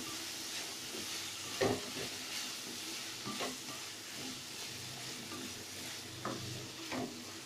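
Drumsticks (munakkaya) sizzle and fry in a curry pan, with a steady low hiss broken by a few louder scraping stirs of a spoon, close and without talk.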